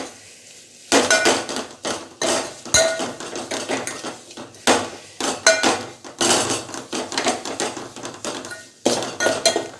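Masala being roasted in chutney and stirred in a pan, with loud, busy metallic scraping and clanking of a spoon against the pan in repeated bursts and brief pauses, close up.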